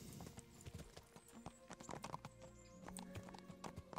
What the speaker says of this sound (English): My horse is in full-on spaz mode.